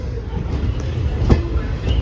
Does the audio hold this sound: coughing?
no